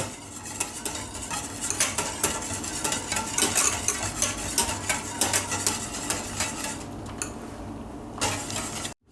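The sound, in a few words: stirring pressed raspberries into panna cotta topping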